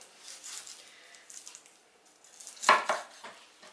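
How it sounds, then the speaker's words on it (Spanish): Two chicken thighs being cut into pieces on a kitchen board, with soft scraping and knife contact followed by one sharp chop and a few lighter knocks, close and fairly quiet. "Vamos a coger los dos muslos de pollo y los vamos a partir"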